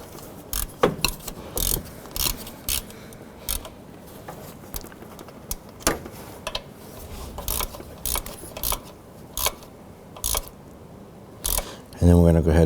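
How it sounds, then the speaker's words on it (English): A ratchet wrench snugs up the upper water pump bolts on a 2007–2011 Honda Civic engine, giving short bursts of rapid metallic clicking separated by brief pauses, close and fairly loud, with a heavier clunk at the end. "All we're going to do right now is just kind of snug up these upper bolts."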